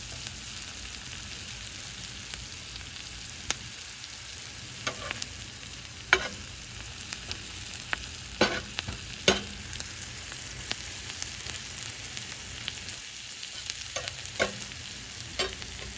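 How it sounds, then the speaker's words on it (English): Onions slowly cook in a pan toward golden caramelization with a soft, steady sizzle throughout, dotted with faint crackles and the occasional light tap of a utensil, and no one speaking. "I'm just gonna slowly cook these until the onions are golden brown and caramelized"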